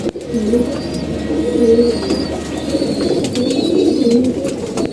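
Pigeons coo repeatedly in a loft, low soft throaty calls rolling in overlapping phrases, close and steady, with a few faint chirps above.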